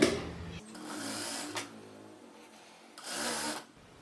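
A sewing machine stitches a seam on a ruffled pantacourt jumpsuit in two short whirring bursts separated by a quiet pause, fairly close and moderately loud.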